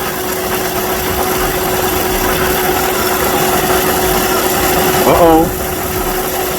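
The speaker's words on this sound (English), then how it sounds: "The compressor is not stopping." Car engine idling steadily with the AC compressor clutch engaged and running, a loud continuous hum and whir close by with a brief rising whine near the end.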